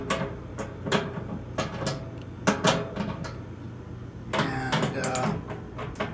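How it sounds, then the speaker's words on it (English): A socket wrench loosens the 3/8 inch mount bolts on the fan housing legs of a United HVAC air-handler blower motor, giving close, uneven clicking and scraping strokes in short bursts against a low background hum. "3/8 inch removes these. I'm going to use a socket to do that."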